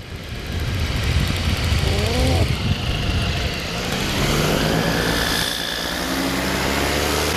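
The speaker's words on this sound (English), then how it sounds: "Engine misfiring like buggery here, which means I'm missing power." A paramotor engine misfiring in flight drones loudly and continuously with rough, uneven power and constant wind rush; the pitch wavers up and down for the whole stretch.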